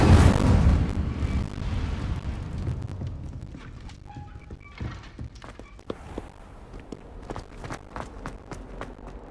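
Incendio fire spell cast in the Hogwarts Legacy video game: a loud burst of fiery rumble at the start, then a series of sharp magical impacts and thumps fading over several seconds.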